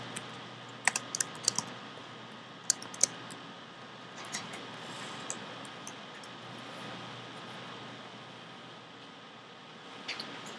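Typing on a computer keyboard while writing Java code, with quiet irregular key clicks and occasional sharper taps against soft background hiss.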